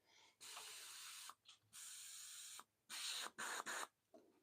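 A needle sprayer pushing water through in sharp hissing bursts, several close spurts of uneven length separated by brief silences, with no talk.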